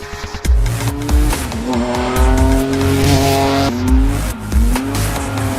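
A Renault 5 Twin'Run with a 3.5-litre V6 of nearly 350 horsepower, weighing about a tonne, drives hard with a loud engine roar, rising and falling revs, and squealing tyres throughout.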